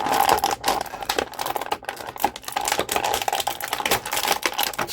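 Stiff, noisy plastic packaging on a Hasbro Marvel Legends Deadpool action figure is pried open, producing a continuous close crackling and crinkling with sharp snapping ticks throughout.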